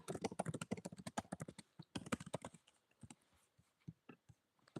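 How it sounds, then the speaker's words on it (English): Fast clattering keystrokes on a computer keyboard, close and crisp, in dense bursts at first, then thinning to scattered taps and pauses. "I'm typing it in the chat."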